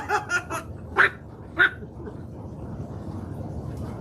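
A dog gives several short, sharp barks in a quick cluster at the start, then two more spaced yips, fairly close, before the sound settles into a low room hum.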